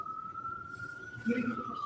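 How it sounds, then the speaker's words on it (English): A siren heard faintly in the distance during a courtroom session: a thin steady wail with a person speaking low over it. "Let me repeat that because of the siren."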